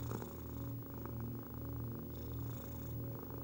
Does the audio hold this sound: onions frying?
no